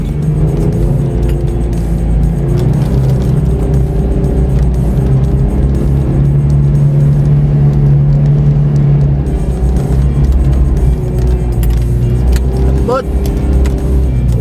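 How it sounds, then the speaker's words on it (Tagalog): A Mitsubishi Pajero's engine drones loud and close during a desert convoy, a steady mechanical rumble with slight pitch swells, while people talk and shout over it. "Ugong makina na parang papapang."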